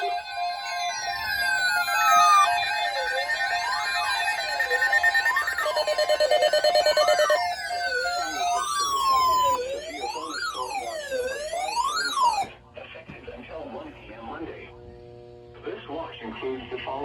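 Emergency alert tone for a severe thunderstorm watch sounding on a phone, a loud sustained warbling electronic alarm with sweeping pitches lasting over twelve seconds before quieter tones and a broadcast voice take over.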